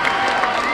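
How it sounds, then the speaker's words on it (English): A crowd cheers and applauds for a team after a game, a dense, steady roar of voices and clapping that runs evenly through the brief moment. "How do you feel about all the people out here cheering for you?"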